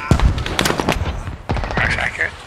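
Gunshots in the tactical video game Insurgency, several loud, sharp shots near the start and another burst midway, mixed with radio-style voices talking over the fire.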